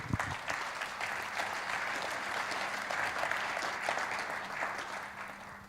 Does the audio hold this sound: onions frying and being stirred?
no